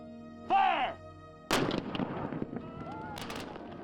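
A shouted command comes first, then a Civil War reenactment cannon fires once outdoors. The boom is loud and sudden, followed by a rumbling tail and scattered background noise.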